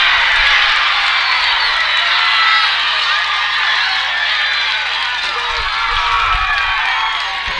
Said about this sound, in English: the roar from that crowd was loud